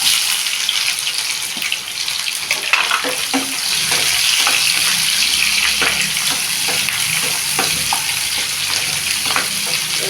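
Chopped onion sizzles steadily in hot oil with mustard seeds, a loud continuous frying hiss with occasional sharp pops and stirring clatters close by.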